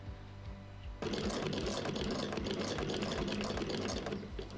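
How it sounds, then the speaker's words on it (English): Sewing machine starts after a moment of quiet and runs steadily at speed, a dense whirring stitch rattle, close and fairly loud. "it is a good time to let our sewing machine Freya out to play"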